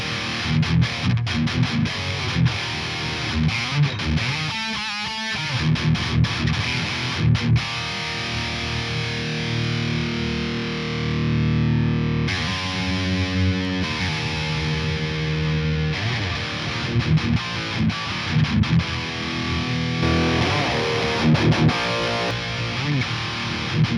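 A distorted electric guitar played through the Bogren Digital S_Zero 93 amp plugin with extreme EQ settings, a dense, sustained high-gain wall of chords and palm-muted chugs, loud and continuous with no talking.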